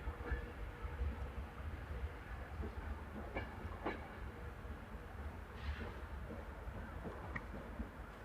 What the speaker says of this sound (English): now departing is the 1110 Avanti West Coast service to Edinburgh